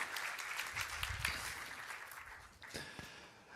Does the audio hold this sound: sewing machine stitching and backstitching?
no